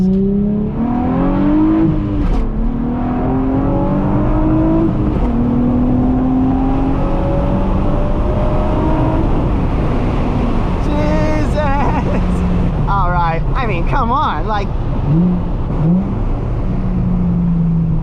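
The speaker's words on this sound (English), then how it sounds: "people say that this engine sounds like a trumpet" A Nissan 350Z engine revs hard and climbs through the gears, loud and close, with a brassy, trumpet-like rising tone; someone talks briefly over it near the end.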